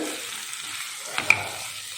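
Chickpeas stirred with spices in a pan for Punjabi chole give off a soft, steady sizzle, with a brief clack of the spoon against the pan near the end.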